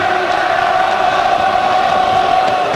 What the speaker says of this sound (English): Crowd are singing, all of them in the background, here in the land of song.